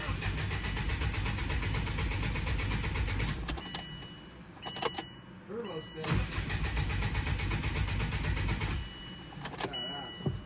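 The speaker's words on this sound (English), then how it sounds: "All right, cranking without the ignition fuse in." Car engine cranking over on the starter with the ignition fuse pulled, after a GT3076R turbo install, a steady churning drone with brief pauses, while people talk over it.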